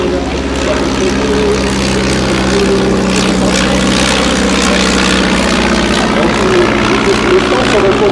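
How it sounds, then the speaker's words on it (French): Stampe biplane with an inverted Renault engine of over 120 horsepower flies during aerobatics, its propeller drone steady and loud throughout, with a low engine hum running continuously beneath. "Le moteur du Stamp est un moteur Renault inversé qui permet d'avoir un moteur quand même de plus de 120 chevaux."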